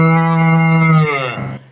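A person imitates a cow with one long, loud, low moo that swells and then trails off, performed close up during a lively children's storytelling session.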